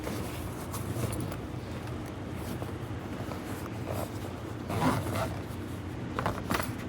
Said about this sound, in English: The zipper goes right up.